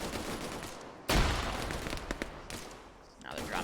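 Video game gunfire from a squad shooting on Prison Island, with sharp rapid shots and bursts, one loud close blast, then scattered distant fire under a faint voice.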